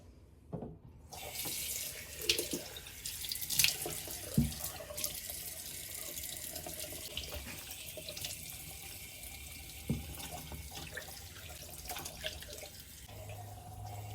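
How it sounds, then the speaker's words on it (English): Cold tap water runs into a sink during face washing, a continuous close splashing stream with occasional handling bumps and drips. "I'll wash my face with cold water."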